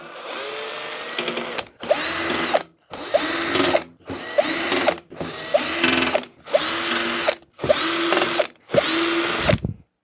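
Power screwdriver or drill removing screws from a toaster, running in about eight separate whirring bursts of roughly a second each with short pauses between, loud and close with no talking.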